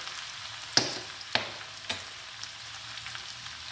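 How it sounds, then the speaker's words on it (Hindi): Onions sizzle gently in hot ghee over a low flame, quiet steady frying with a few sharp clinks of a spoon stirring the pan. "लो फ्लेम पे तो मैं लाइट सा कलर आने तक फ्राई करूंगी प्याजों को।"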